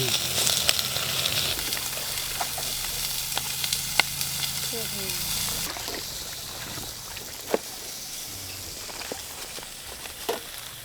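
Food sizzles and crackles steadily in a pot, with occasional sharp pops and light stirring clicks, close up and with no talking.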